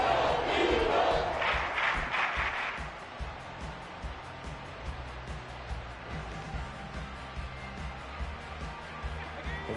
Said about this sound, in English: this crowd trying to force a false start here